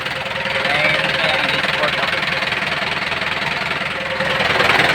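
An Isuzu 4BC2 diesel engine runs steadily at close range, a continuous rough, knocking idle with a broadband mechanical clatter that holds an even level throughout.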